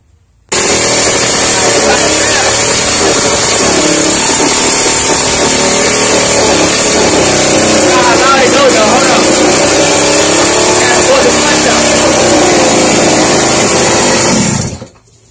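A small pocket motorcycle engine with no chain fitted runs continuously at high revs, a loud buzzing whine held steady close up for about fourteen seconds before it cuts off abruptly.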